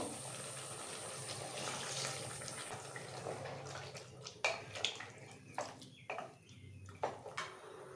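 Water splashes into a pot of cooking mutton and fried potatoes, a soft continuous pour at first, then a few scattered splashes and drips, faint and close.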